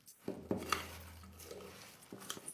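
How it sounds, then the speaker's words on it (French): A spoon stirs ingredients in a dish after lemon sugar syrup is added, giving soft scraping and a few light clinks against the bowl, quiet and close. "Remuez à nouveau pour mélanger les ingrédients."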